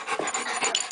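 A heavyset dog pants steadily up close, quick rhythmic breaths repeating through the whole short moment with no talk over it.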